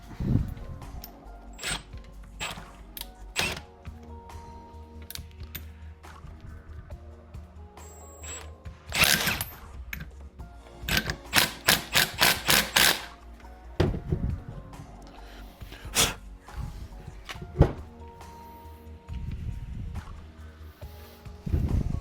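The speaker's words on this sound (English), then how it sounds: "This nut back on, we'll slam it back on with this Milwaukee impact" A Milwaukee impact wrench tightening an alternator nut on a 1966 Ford Galaxie with a 289 engine, with short rattling bursts of rapid hammering close by, separated by quiet handling noises.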